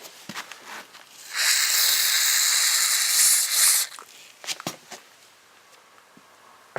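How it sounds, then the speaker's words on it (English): An aerosol can of white lithium grease sprays onto lawn mower wheels in one loud, close hiss lasting a couple of seconds, framed by scattered small clicks and handling knocks. "just give it a little shot with some white lithium grease. A little bit on the wheels."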